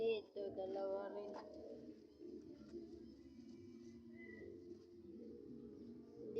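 Pigeons beside their nest with eggs give soft, low cooing calls that repeat in a gentle rhythm, close by and fairly quiet, with a voice speaking faintly in the background.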